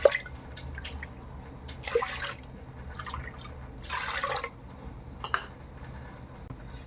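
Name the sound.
water poured into rice and lentils for pongal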